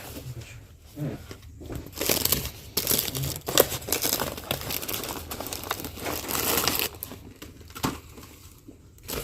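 Plastic packaging crinkles and crumples in bursts of handling noise, fairly close and continuous throughout, while groceries are being unpacked in a home kitchen.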